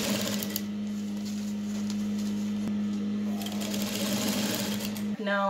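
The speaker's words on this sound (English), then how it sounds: "So we are just going to sew it all down." A sewing machine stitches down a dress flounce with a fast, steady, close whir that runs almost without a break, and someone talks over it.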